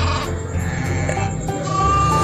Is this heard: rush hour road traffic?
no